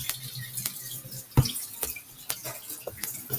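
Running water splashes and trickles in a sink while shaving cream is rinsed off, with soft irregular clatters and splashes over a quiet, close flow.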